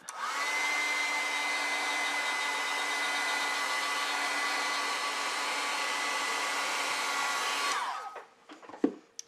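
A hair dryer blows steadily to dry watercolor paint in a sketchbook, a loud continuous whir for about eight seconds before it cuts off, followed by a few faint handling clicks.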